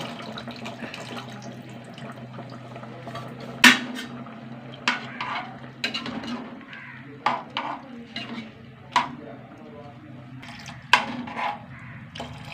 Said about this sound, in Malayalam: കുറച്ച് പുളി ഒഴിച്ച് കൊടുക്കട്ടെ